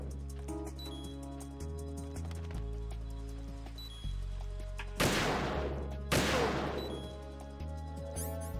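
Sniper gunfire in the video game Metal Gear Solid: two loud, sharp shots about a second apart, each with a long decaying crack, ringing out over a steady droning game soundtrack.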